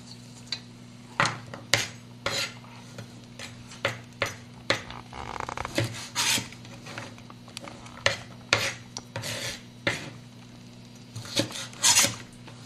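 A kitchen knife cuts green beans at a slant on a board, giving a steady series of crisp, close chopping taps at an even pace, each a short sharp knock with a rasp, with no one talking.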